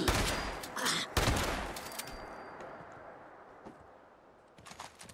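Shotgun blasts from a short double-barrel in Fallout 76, several loud sharp reports in close succession followed by smaller scattered shots and fading echoes, with brief game effects between.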